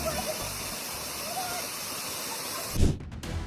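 A waterfall pours down as a steady close rushing roar of spray, with a brief heavier splash and thump near the end.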